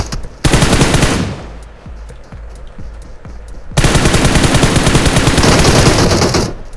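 M4 rifle fire in PUBG, loud rapid automatic bursts rattling close in two long strings, with a brief break of scattered single shots between them.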